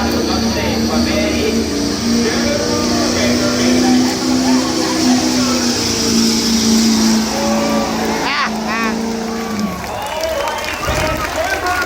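A pulling truck at the Bedford County fair truck pull roars with a loud sustained engine drone under a cheering crowd and an announcer talking, then the engine cuts off near the end.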